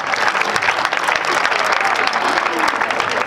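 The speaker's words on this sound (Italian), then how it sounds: "rivolgendo un caloroso applauso al comitato organizzatore" An audience at a folk performance applauds loudly and continuously, dense clapping from many hands filling the whole stretch without pause.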